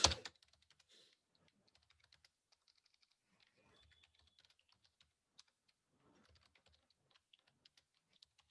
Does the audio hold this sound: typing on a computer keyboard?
yes